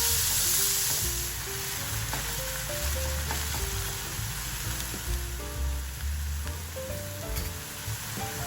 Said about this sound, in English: 60 grams of ground pork or ground beef. Stir fry until cooked through